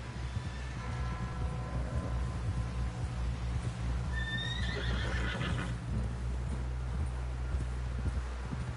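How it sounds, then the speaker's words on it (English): A horse in a video game clip-clops at a gallop with rustling underneath. A loud, close whinny rises midway before the hooves carry on. "Someone help John down off this horse"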